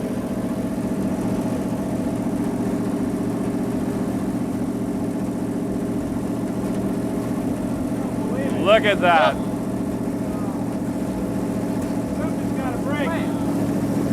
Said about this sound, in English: This engine is running just as smooth as it did a minute ago.